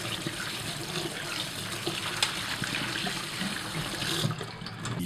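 Water is poured off blanched chicken bones in a home kitchen, and the bones are rinsed under cold running water, making a steady, close, rushing splash throughout.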